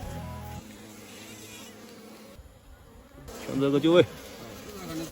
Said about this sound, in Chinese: 大家好奇这个蜜蜂是怎么攻击马蜂的？